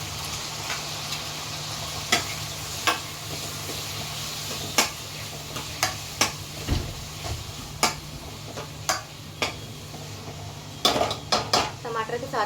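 Tomatoes, green chilies and spices go into a pan of golden-browned onion and garlic for nutri bhurji, heard as a soft sizzle under repeated clinks and scrapes of a spoon against the pan.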